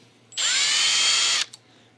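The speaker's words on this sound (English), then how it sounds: "we're going to mark up and drill the top holes." A power drill whirs at high pitch for about a second, drilling holes in a guitar body, starting and stopping abruptly, close and loud against a quiet background.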